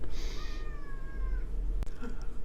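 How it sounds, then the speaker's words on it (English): A house cat gives a single drawn-out meow indoors, clear and fairly close, over a low steady background hum, followed by a brief click. "That cat meowing is in my house."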